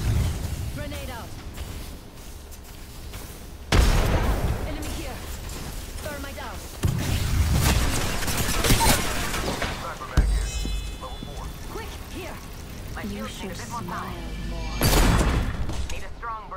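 Apex Legends match with several heavy grenade blasts and bursts of gunfire hitting at intervals, loud and close, mixed with a steady clatter of combat noise while voices speak throughout.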